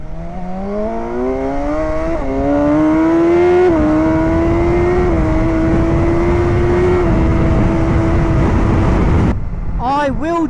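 A remapped BMW S1000XR motorcycle engine revs hard under acceleration, its pitch climbing through several gear changes in a loud, steady pull with wind roar, then dropping off sharply at the end.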